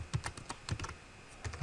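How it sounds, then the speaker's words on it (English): Quick, light keystrokes tap on a computer keyboard in short irregular bursts, close and quiet, with no one speaking. "So now we just type in our note."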